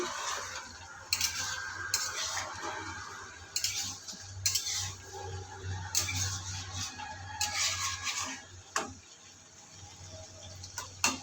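Fig, shrimp and potato curry sautéing in a pan, with a steady low sizzle beneath repeated spoon scrapes and clinks against the metal, coming in short bursts every second or so, close and moderately loud.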